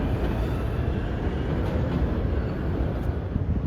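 Steady, loud rumble of a New York City number 7 subway train running eastbound along the tracks, continuous throughout with no voices.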